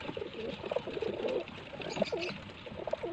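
Pigeons cooing softly near their eggs and newly hatched chicks, a run of low, repeated warbling coos at moderate distance with faint background rustle and trickle.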